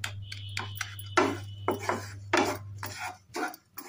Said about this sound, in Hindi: तो इस तरीके से इसे भून लेना है